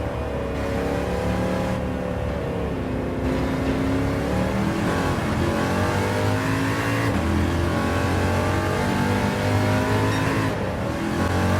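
Race car engine in Gran Turismo 7 sliding across an icy track during a wheel-to-wheel race, a steady loud engine drone with rising and falling revs throughout, no talking.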